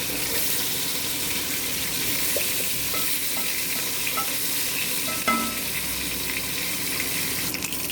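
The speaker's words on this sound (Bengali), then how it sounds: "সেকেন্ড ব্যাচের মাছগুলো ভেজে নিচ্ছি" Bhetki fish fry with lemon juice in hot oil, a dense continuous sizzle close by with occasional light clinks and scrapes from turning the pieces.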